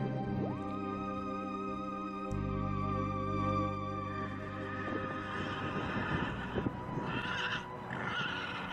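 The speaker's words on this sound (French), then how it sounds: "Écoutez, le cheval nous le dit." A horse neighs loudly and close by, a long shrill whinny with a rising and falling pitch, followed by snorting and a few hoof clip-clops, with no talking.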